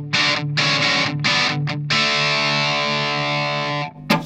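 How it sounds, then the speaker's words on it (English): Electric guitar played through a Lindo overdrive pedal, giving a loud, crunchy driven tone: several short choppy strummed chords, then one long sustained chord ringing out before it cuts off. "overdrive is quite nice, that one."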